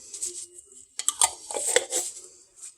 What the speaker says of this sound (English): Put that little spoon in there.